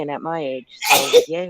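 A single sharp sneeze bursts out between bits of a man's speech, close and loud.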